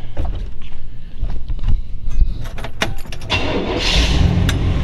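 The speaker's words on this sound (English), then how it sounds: "we'll just fire this old girl up for you so you kind of get a feel" 1958 Chevrolet Impala with a 348 Tri-Power V8 being started indoors: clicks and brief cranking, then the engine catches and settles into a loud, steady rumble nearby.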